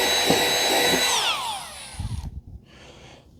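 A cordless drill whirs at high speed, driving a screw into wood, then winds down with a falling pitch before a few brief rattles and handling thumps.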